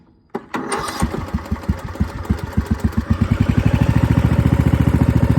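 A tractor with a manual transmission is started by key: a short crank catches and the engine fires into rapid, steady chugging pulses that quicken and settle into a loud, close idle.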